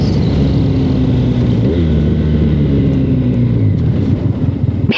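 Honda VFR 1200 motorcycle with a gearbox fault pulling hard through the gears, a loud, steady engine drone with rising and falling harmonic tones close to the rider, continuous for the whole stretch.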